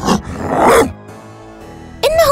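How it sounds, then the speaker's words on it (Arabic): A dog gives a loud, close burst of barking at the start, followed by a quieter tonal stretch and a brief voice at the very end. "إنه مجرد كلب."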